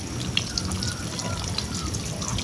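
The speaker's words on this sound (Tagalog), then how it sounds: "dinidrain muna natin yung tangke" Water drains steadily from a water pump's pressure tank, a continuous trickling rush with small drips, close and moderately loud throughout.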